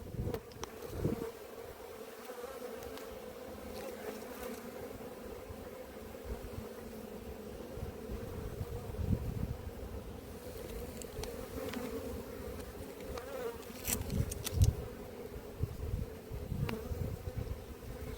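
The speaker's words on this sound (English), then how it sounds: "there's a good lot of bees coming in here" Honey bees buzz steadily around an apiary hive, a low continuous drone of many insects flying close by with occasional louder passes, no talking.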